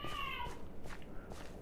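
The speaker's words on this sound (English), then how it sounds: "Oh my god, the cats are causing a scene out there." A cat meows outside in one drawn-out, wavering cry at the start, followed by faint rustling and muffled background noise.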